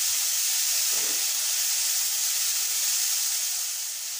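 Beetroot cutlets fry in ghee with a steady, even hiss that holds close and loud throughout, with no voices over it.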